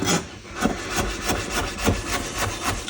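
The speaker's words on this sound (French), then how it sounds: "vous reprenez avec votre couteau, et là vous allez émincer en faisant bien ce mouvement de balancer avec votre lame" A chef's knife rocks back and forth mincing garlic on a cutting board for spaghetti aglio e olio, making a steady run of close, evenly spaced taps and scrapes.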